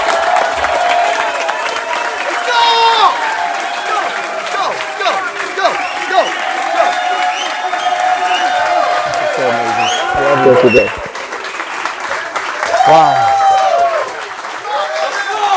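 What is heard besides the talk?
crowd applauding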